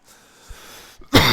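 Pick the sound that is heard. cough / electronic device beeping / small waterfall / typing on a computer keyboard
cough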